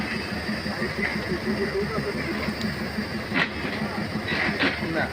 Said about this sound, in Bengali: আন্তনগর ট্রেনটি ছেড়ে দিয়েছে